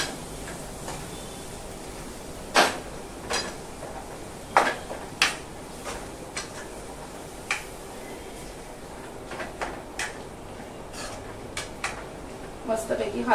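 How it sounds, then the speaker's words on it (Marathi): A spoon stirs paneer into cooked vegetables in a pan, giving sharp, irregular metal scrapes and clinks close up, spread across the clip with a low background hum. "हे पनीर याच्यात टाकूया आणि हे छान हलवून घ्यायचं"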